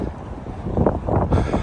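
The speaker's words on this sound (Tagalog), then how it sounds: "yung hangin ayaw magpaawat" Strong gusty wind during a mountain bike ride buffets the microphone in rough, rumbling bursts, loud and close.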